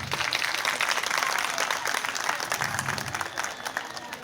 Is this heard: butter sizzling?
no